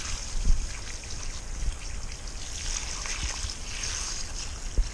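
Water poured onto garden soil around a tomato plant along with a dose of potash, about 13 litres at once, giving a continuous soft splashing trickle outdoors, fairly close and steady.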